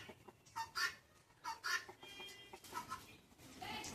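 Repeated harsh, rhythmic guinea fowl calls ring out in bursts, close and fairly loud, with overlapping cackling notes from the fowl.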